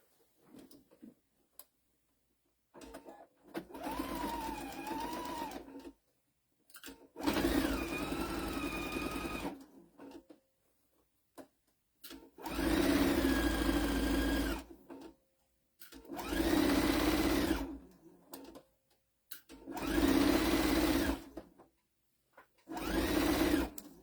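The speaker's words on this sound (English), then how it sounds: "now we're going to sew a 1/4 inch all the way across." A sewing machine stitches a quarter-inch seam across a Halloween pillowcase, running in six or so bursts of a few seconds each, separated by short pauses.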